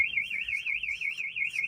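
A missionary van's alarm sounds nearby as a piercing electronic siren that warbles rapidly up and down, with a few brief breaks in the tone.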